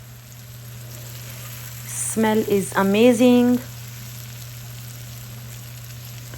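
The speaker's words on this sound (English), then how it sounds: "I love this sizzling sound." A constant, steady sizzle of bitter gourd frying with onion and tomatoes in a pan, with a person speaking briefly over it.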